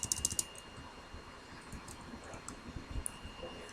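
C code being typed on a computer keyboard, a quick faint burst of key clicks at the start and then sparser scattered keystrokes in a quiet room.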